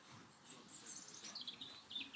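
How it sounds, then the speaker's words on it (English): Several small birds chirp and tweet outdoors on a bright spring day among daffodils, with faint, scattered high calls over quiet background and no talking. "Can you hear the birds?"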